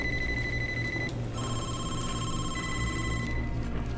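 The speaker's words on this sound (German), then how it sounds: "Und die ganzen Telefone von Angehörigen, die hier wahrscheinlich anrufen." Several telephones ring at once in a nightclub crime scene in the tactical shooter Ready Or Not, overlapping electronic trills sounding continuously over a low rumbling ambience.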